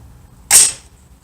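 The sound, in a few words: 6.5 Creedmoor AR-10 rifle shot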